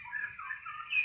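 A pet canary sings in a steady, continuous warble, clear and fairly close, with no talking over it.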